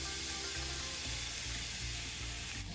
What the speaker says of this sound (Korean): 팬에 식용유를 골고루 두르고 팽이버섯을 가득 돌려담아 중불에서 구워줍니다.